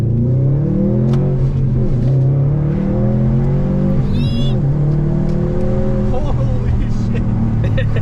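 A Subaru STI with about 12 miles on it accelerates hard on a test drive, its engine droning loudly with rising and falling pitch through gear changes, heard from inside with people talking over it.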